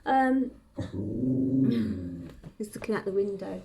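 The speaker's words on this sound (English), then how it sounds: "shush, that's the dog" A household dog growls and gives a short bark indoors while someone talks over it, the low rumbling growl close and fairly loud at the start and again in brief bursts.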